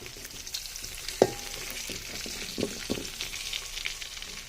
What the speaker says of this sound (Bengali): মাংসের পিসগুলো দিয়ে দিলাম খুব ভালোভাবে ভাজার জন্য।